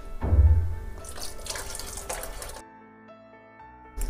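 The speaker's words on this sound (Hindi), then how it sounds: "मैं सब्ज़ी के अंदर आधा कप गर्म पानी और डाल देती हूँ।" Hot water is poured into a simmering pea and mushroom curry, giving a short splashing gush that fades into soft bubbling and faint kitchen clatter, with no talking.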